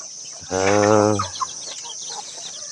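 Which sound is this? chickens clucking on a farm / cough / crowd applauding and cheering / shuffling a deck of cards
chickens clucking on a farm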